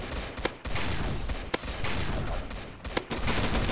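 Railgun firing in the Roblox game Zombie Attack: three loud, sharp shots roughly a second apart, each cutting into a dense, continuous roar of in-game noise, with no talking.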